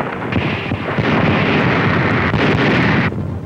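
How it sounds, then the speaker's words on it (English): American artillery shells pounding the naval station at Bizerte in wartime Tunisia, a dense continuous roar of shellfire and rumbling blasts, loud and unbroken for several seconds on an old restored newsreel recording, with no voices. "There's the naval station at Bizerte being pounded by American shells."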